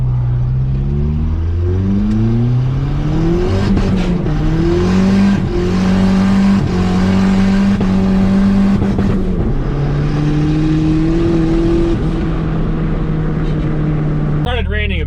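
A turbocharged Nissan Hardbody truck engine revs hard and continuously at full steering lock, pitch climbing and falling through sustained high-RPM sweeps around 5,000 RPM, with a brief sharp noise near the end.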